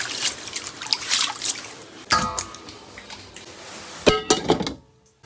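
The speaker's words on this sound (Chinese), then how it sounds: "把牛圈给它好好清洗清洗" Beef tripe is rinsed under running water: an uneven trickle and splash with two louder surges of gushing water and handling thunks, then a quiet stop near the end.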